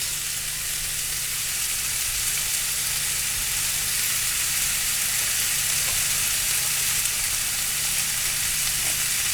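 Vegetables sizzle in a hot skillet that has been switched off: a continuous, even frying crackle and hiss, close and moderately loud, with no talking.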